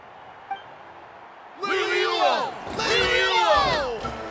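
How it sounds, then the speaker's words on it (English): Crowd cheering in the Genshin Impact video game, a swelling roar of many voices with whoops and shouts that bursts in after a quiet start and stays loud in two surging waves. "Hear that? The exhilarating cheers of the crowd."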